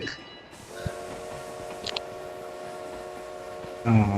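A train in PUBG rumbles steadily with a long sustained whistle tone over it, ending in a louder horn-like blast; game audio with faint voices.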